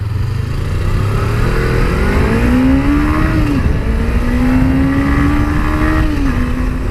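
A 2017 Suzuki GSX250R motorcycle engine drones loud and steady while riding through traffic, its pitch rising and falling smoothly as the rider shifts and accelerates, with heavy wind rush throughout.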